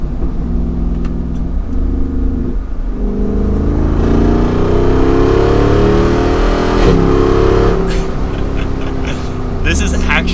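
A 2022 Jeep Wrangler Rubicon 392 accelerates hard, its loud V8 exhaust climbing in pitch through quick gear changes, with a person talking over the engine roar.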